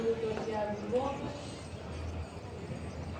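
Horse hooves clip-clop faintly in a slow walking rhythm outdoors at the Santarém agricultural show, partly masked by voices chatting nearby.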